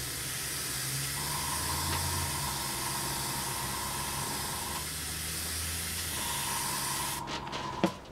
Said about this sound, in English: that's quite a nice medium spray pattern that is